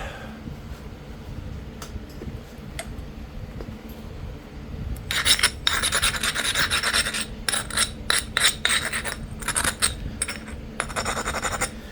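Mookaite stone point edge being ground during flintknapping, a soft rasping at first, then a loud run of rapid scraping strokes in short bursts, close and alone.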